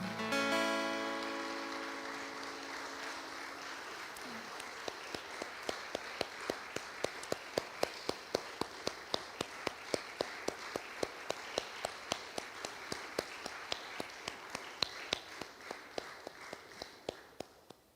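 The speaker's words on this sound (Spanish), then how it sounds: "Dale un aplauso." A church congregation claps together, starting as scattered applause and settling into a steady rhythmic clapping in time for many seconds before fading out.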